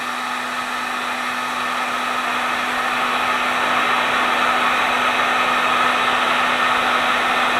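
A heat gun blows steadily on plastic material being softened for faux icicle ornaments, giving a constant close whooshing hum with a fixed motor tone and no talk.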